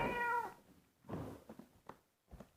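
A pet cat meows once, close and clear, with a drawn-out rising and falling call, followed by a few softer, shorter chirps and mews in a quiet room.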